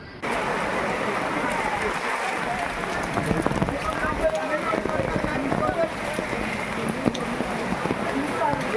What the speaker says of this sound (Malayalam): ആ മഴയത്ത് നല്ല മഴയത്ത് തന്നെയാണ് നമ്മളിവിടെ എത്തിയിരിക്കുന്നത്